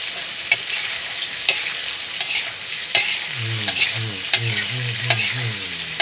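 Steady sizzling of ground pork in a hot frying pan with regular scraping strokes of a utensil stirring, a rhythmic clatter running throughout.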